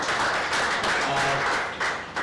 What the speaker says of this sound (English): please give the panelists an amazing round of applause